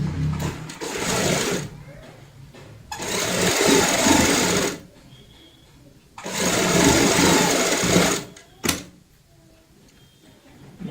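A sewing machine stitches baby cap pieces in two long runs of steady whirring, each several seconds long, with quiet pauses between them and a brief knock near the end.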